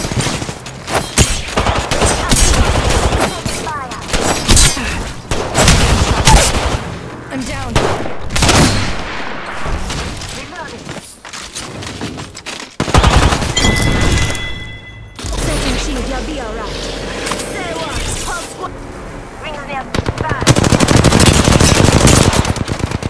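Rapid automatic gunfire and scattered shots from a firefight in the battle royale game Apex Legends, loud and dense in repeated bursts with brief lulls, some crashes and impacts mixed in, with a voice talking faintly underneath.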